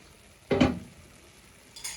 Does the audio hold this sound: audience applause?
no